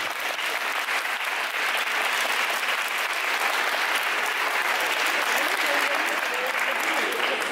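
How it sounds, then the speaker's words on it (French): Sustained, dense applause from a crowd at a departmental Ufolep artistic gymnastics (agrès) competition fills the whole stretch at steady loudness, with a faint wash of voices underneath. "si vous pouvez les applaudir"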